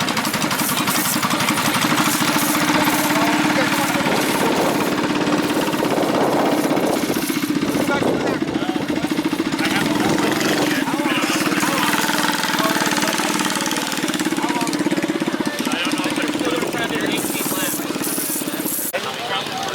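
A cold engine runs steadily after being started with the choke on a chilly morning, a loud, continuous mechanical drone through the whole stretch, with people talking nearby over it.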